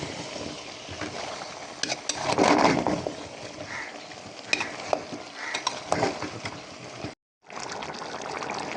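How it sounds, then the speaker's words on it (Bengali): Chopped bottle gourd tumbles into a pan of frying country rooster and is stirred through, with a steady sizzle, scraping and clattering of the spoon close up, and a brief dropout near the end. "এখন দিয়ে দিচ্ছি লাউ, কেটে রাখা, ধুয়ে পরিষ্কার করে রাখা লাউগুলো দিয়ে দিচ্ছি"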